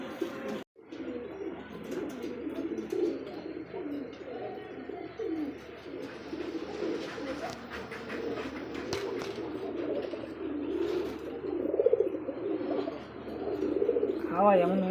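A pair of Bombay pigeons at a pigeon market coo in low, throaty rolling murmurs throughout, close and continuous, with faint chirps and background chatter mixed in.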